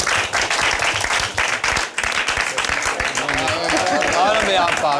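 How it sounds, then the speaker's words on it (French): Studio audience applause during a French televised debate show, dense clapping mixed with cheers and voices, loud and sustained throughout, with crowd chatter rising toward the end. "Sous vos applaudissements, s'il vous plaît."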